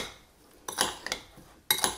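Kitchen knife cutting pineapple into small cubes, a few close, sharp taps and chops against a board in separate bursts with quiet gaps between.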